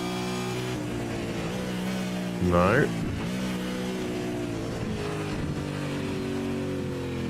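V8 Supercar race car engine at Bathurst in a sim racing game, a steady droning engine tone with a brief sharp rev rising and falling midway, while a commentator talks over it throughout.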